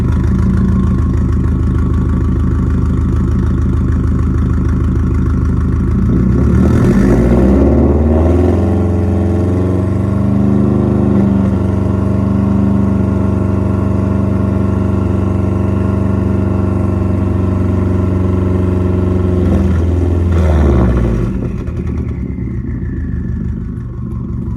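A loud, rough catless straight-piped Subaru STI engine idles, then revs up to 3,000 RPM and holds a higher pitch before dropping back, then rises briefly again; raw and close.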